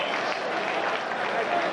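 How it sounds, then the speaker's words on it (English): A college football stadium crowd at a 1994 Miami versus Rutgers game stirs with a dense, steady roar of noise and scattered clapping ahead of a punt. "Now the crowd begins to stir again"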